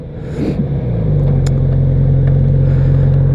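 A Kawasaki Z900RS motorcycle engine revs up from a rough idle into a loud, steady low rumble, heard close by with no talk.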